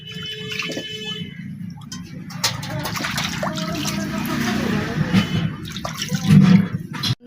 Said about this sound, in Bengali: এবার মাছটাকে ভালো করে ধুয়ে নেব পরিষ্কার করে ধুয়ে নেব